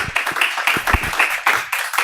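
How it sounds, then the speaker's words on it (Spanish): A small lecture audience claps in welcome for a professor, a sparse, uneven patter of individual hand claps close by. "les pido un aplauso de bienvenida para el profesor"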